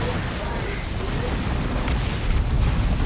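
Orbital bombardment and rocket run strikes pound a 3v3 Dawn of War 2 battle, a dense, continuous roar of rumbling explosions with no clear gaps, loud and steady throughout.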